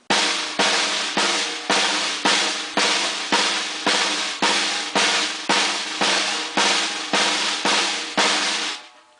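A drummer plays a doubled multi-bounce roll on a drum, sticks pinched and driven from the wrist: sixteen evenly spaced, fast buzzing strokes in a steady rhythm, close and fairly loud, with no talking.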